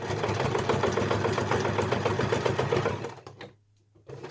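A sewing machine stitches bunting flags together, a steady rapid mechanical chatter that runs for about three seconds, then fades to near silence before a brief quiet resumption.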